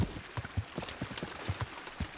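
A horse's hooves pound in a quick, steady clip-clop rhythm during a gallop in the video game Kingdom Come: Deliverance, with a soft rustling wash underneath and no talking.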